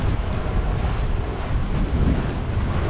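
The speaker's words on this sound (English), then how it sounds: "on Vis Sauvage, you'd be feeling these waves, and here it's just cutting straight through, doing about 7 knots consistently now." A sailboat cuts through waves at about 7 knots, giving a steady wash of water and rushing wind noise, loud and continuous, with no voices.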